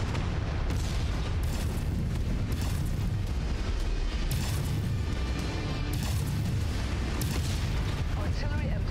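Constant heavy bombardment in the mech combat game Mechwarrior 5 Mercenaries: artillery booms and explosions rumbling one after another at high level, with layered crackling fire and occasional voices underneath.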